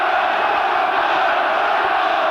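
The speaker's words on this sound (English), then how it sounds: "There really is a wall of noise around Ayrton Park." A football crowd at Ayresome Park, Middlesbrough, roars in a steady, loud wall of noise during the 1990 final-day match against Newcastle, with no single voice standing out from the sustained din.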